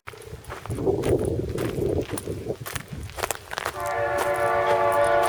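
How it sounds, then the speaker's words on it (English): A train rumbles past nearby in Norseman, Western Australia, wheels clattering, then a long steady horn blares for the final seconds. "That was the train."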